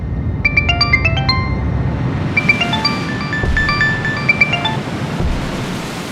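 A melodic phone ringtone plays repeated bright electronic note patterns in two bursts, heard over a loud, rumbling wind-like background.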